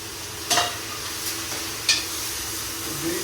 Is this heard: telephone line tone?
no